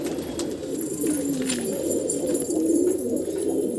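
Pigeons coo steadily inside a rooftop coop housing young chicks, a soft, continuous low murmur of overlapping calls with no talking.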